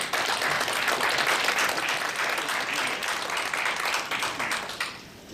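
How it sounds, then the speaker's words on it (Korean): An audience at a Korean civic forum on the 4.15 general election applauds to welcome a speaker to the stage, a dense, steady wash of clapping that holds loud for about five seconds and then tapers off. "큰 박수로 맞아주시기 바랍니다"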